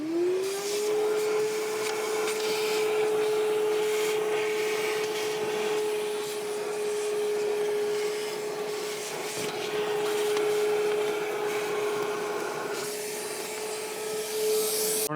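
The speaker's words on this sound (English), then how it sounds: "Just trying to break up the clods so it'll get picked up by the vacuum" A vacuum cleaner runs steadily with a constant whine while it sucks dirt and oil-caked clods from the engine bay of a 2014 Subaru Forester. The sound is close and continuous, with scraping and rubbing beneath the motor noise.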